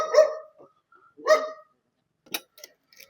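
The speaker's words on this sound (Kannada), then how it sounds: "ಆಲ್ರೆಡಿ ಬಂತು ನಾಯಿಗಳು 2 ಸಹ" Two dogs bark in a few loud, close bursts, then a handful of shorter, fainter yips and whimpers follow after a brief pause.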